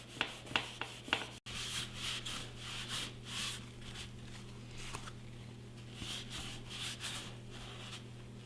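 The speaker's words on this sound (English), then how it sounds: "I'm all done sanding and putting the coats of resin on" Quiet hand sanding on a surfboard resin repair, a few sharp scrapes at first and then steady soft rubbing strokes in an uneven rhythm, close and faint with a low hum beneath and no talking.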